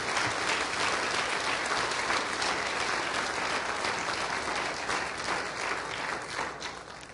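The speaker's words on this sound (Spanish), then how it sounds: "Dele un aplauso de alabanza al Rey de Reyes" Church congregation applauding in praise during a sermon, dense sustained clapping from a large crowd that fills the whole stretch, fairly loud and even, slowly tapering near the end.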